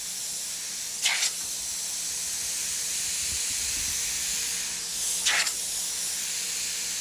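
An airbrush sprays a light mist of paint onto a black shirt for a realistic portrait: a soft, steady hiss throughout with two brief, louder bursts of spray a few seconds apart.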